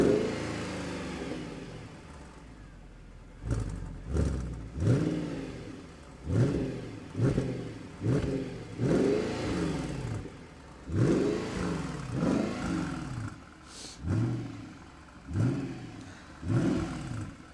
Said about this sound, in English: SLS C63 engine, and the startup sound is amazing.